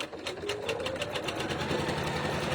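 Close, steady whirr of an embroidery sewing machine stitching a tack-down stitch on a fluffy puff flower, its needle beating rapidly and evenly with no talk.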